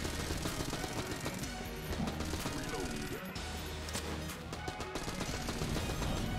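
An AK assault rifle fires in sustained bursts in Enter the Gungeon, rapid snapping shots over busy game music and effects, steady and moderately loud.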